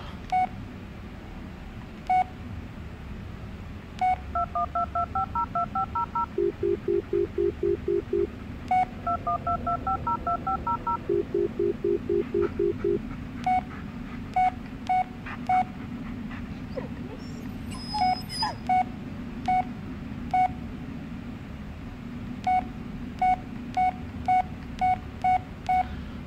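Phone dialing tones in the Blair Witch video game, evenly spaced single beeps with two rapid runs of keypad tones in the middle, clear and close over a low rumbling background.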